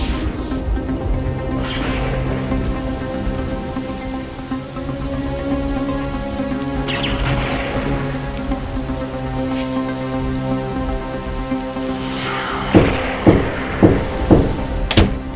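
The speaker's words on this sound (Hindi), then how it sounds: "बारिश तो बहुत तेज है" Heavy, stormy rain pours down in a steady, dense hiss of drops striking surfaces, loud and continuous, with a few sharper splashing bursts near the end.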